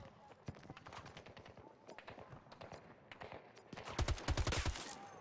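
Gunfire in the video game Battlefield 2042, rapid bursts of shots rattling through a busy mix, growing louder and heavier near the end, with voices talking underneath.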